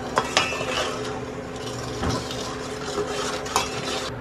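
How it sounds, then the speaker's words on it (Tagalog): Sugar syrup for tanghulu is stirred in a pot on a stove, a spoon scraping and clinking against the metal in repeated soft strokes, close and without speech. "Haluin natin. Para hindi dumikit sa kalan."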